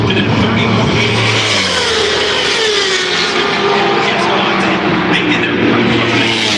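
Racing motorcycles, including the SBK Racing Ducati, roar past at the Daytona 200, a loud continuous engine wail that rises and shifts pitch throughout.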